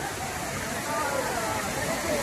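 The Thirparappu waterfall gives off a constant, loud roar of rushing water that fills the scene. The broad wash stays unbroken throughout, and a faint murmur of voices may sit beneath it.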